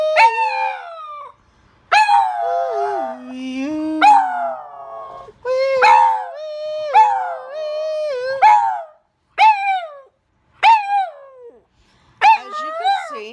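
A dog howls and yips in long, wavering, rising and falling notes along with the Doctor Who theme, the howls coming in repeated bursts separated by brief pauses, loud and close.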